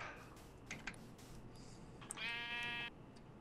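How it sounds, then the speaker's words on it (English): Minecraft sheep giving a single brief, faint bleat near the end, set against quiet clicking and keyboard-like ticks. "That's a sheep."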